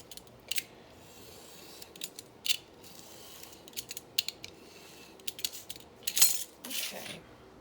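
Scissors trimming the edges of handmade journal pages, giving a series of short, close snips spaced irregularly with brief pauses, fairly quiet over a low room hum.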